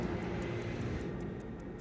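An airplane at Heathrow Airport gives off a faint, distant, steady engine rumble, overlaid by a regular series of quick high-pitched ticks.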